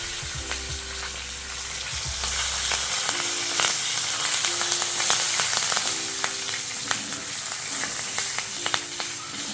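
Curry leaves sizzling in hot oil in a pan for a peanut and coconut chutney: a loud, crackling spatter with sharp pops scattered throughout, and a low hum at the start, no talking.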